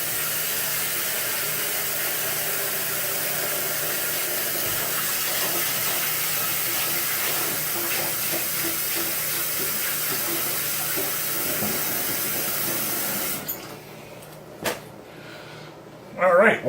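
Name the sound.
tap water running into a pot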